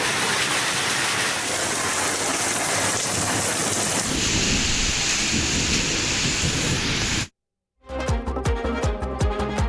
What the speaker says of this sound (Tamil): பலத்த இடியுடன் கனமழை பெய்தது